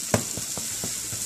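Chickpea scramble frying in a pan, a steady broadband sizzle with a few soft stirring knocks spread through it, close and moderately loud, no talking.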